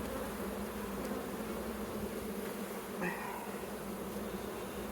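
Honey bees in an opened Flow Hive during an end-of-winter inspection hum in a steady, dense buzz that fills the whole stretch, close by and continuous with no talking.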